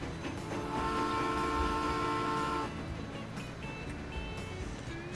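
A train departs in the Transport Fever video game, with a continuous rolling engine rumble and a high tonal whine that hold steady, then drop off to a quieter hum.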